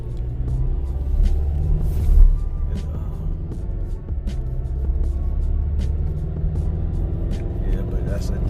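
A 2024 Toyota Tacoma pickup cruises along the road with a steady low engine and tire rumble heard from inside the cab, with people talking over it.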